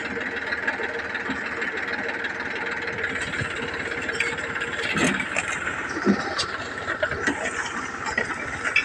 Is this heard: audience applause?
no